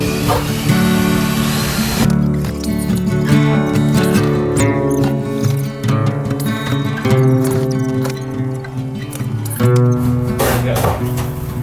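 A power drill whines steadily and loudly throughout, pitch wavering as it drills out metal rivets in an Airstream trailer, with no pauses.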